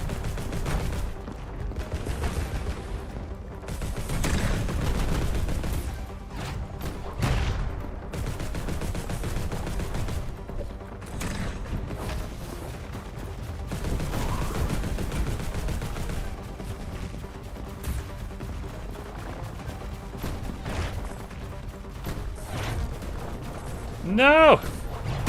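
Bouncing-bullet gun firing in The Last Spell, rapid bursts of gunfire rattling in clusters over about 25 seconds, fairly loud, with a voice talking intermittently over the shots.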